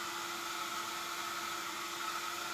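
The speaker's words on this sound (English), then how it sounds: "What's that noise? Hair dryer." A hair dryer runs on its own, a steady, faint whirring hiss with a constant motor tone and no break.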